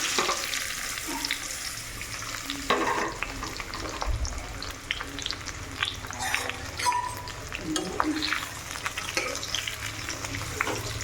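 Mango pieces for a quick mango pickle frying in hot oil with nigella seeds, a steady close sizzle with occasional scraping and stirring clatter throughout.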